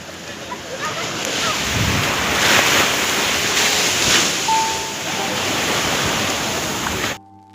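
Sea waves wash onto the shore at Thiruvananthapuram in a steady loud roar of surf, mixed with wind buffeting the microphone and faint background voices.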